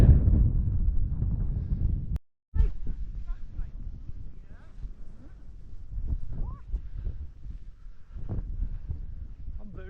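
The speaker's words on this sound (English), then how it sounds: "Wind's blowing strongly." Strong wind on the Cotswold Way buffeting the microphone in heavy low rumbling gusts, loudest at first and briefly cut off, then continuing as a rough roar while people talk.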